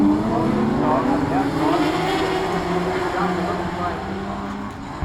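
Speedway race cars at a track circling slowly ahead of the race start, a steady blended engine drone with one sustained tone, heard at a distance and mixed with crowd or commentary noise throughout.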